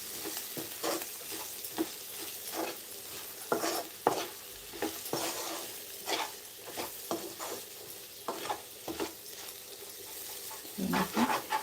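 Cluster bean curry being stirred in a pan, with repeated scraping strokes of the spoon in an uneven rhythm over a low, continuous sizzle, close and fairly clear.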